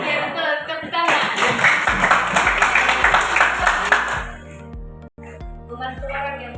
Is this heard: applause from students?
yes